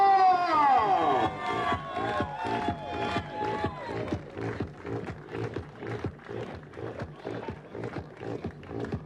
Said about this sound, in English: It is time for applause